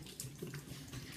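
Yellow cleaning solution pours out of a brewing carboy, a faint, continuous splashing gurgle of liquid falling, heard alone at low level.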